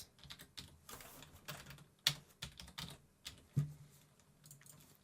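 Quick bursts of keystrokes on a computer keyboard typing a single word, close and clear, a short irregular run of clicks with one louder tap, no talking.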